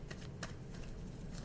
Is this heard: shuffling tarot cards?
yes